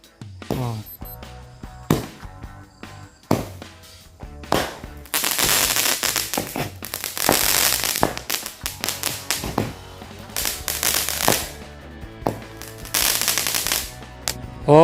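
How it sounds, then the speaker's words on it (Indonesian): Cobra cake firecracker firing at night, loud close bangs that start as spaced single shots and build into long machine-gun-like crackling volleys, with brief gaps between bursts. "Kita lihat hasilnya dari mercon cobra"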